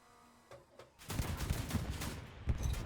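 In the video game Hell Let Loose, a tank fires, a dense volley of heavy gunfire and booming shots rolling on for a couple of seconds after a few quieter pops.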